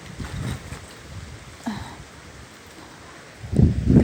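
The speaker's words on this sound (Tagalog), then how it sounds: "Grabe ang hangin" Strong wind gusts buffet the microphone outdoors in low, rumbling bursts that swell and fade, with a heavier blast near the end.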